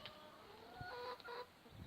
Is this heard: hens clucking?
yes